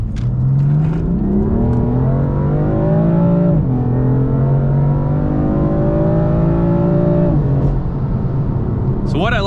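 A BMW M4 engine revs up hard to redline through two long climbing pulls, its pitch rising steadily with a brief drop at the gear change.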